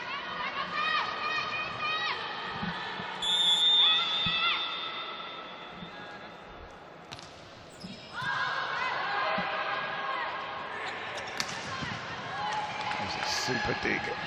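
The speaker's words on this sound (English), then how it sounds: "Players not on court, cheering their teammates on." Volleyball substitutes cheering from the bench during a women's Universiade semi-final, Russia against Japan, in Napoli: shouts and claps from the team rise over crowd noise in the arena while a commentator talks throughout.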